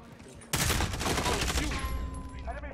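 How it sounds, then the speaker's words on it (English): Rapid gunfire bursts out abruptly in an online match of Call of Duty Vanguard, loud and dense for over a second before thinning into fading echoes and tails. "why are you shooting me?"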